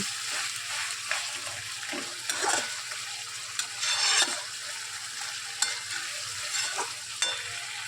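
Meat being stir-fried in a pan, with a steady close sizzle and frying hiss under repeated scraping and stirring strokes of a spatula, with no talking.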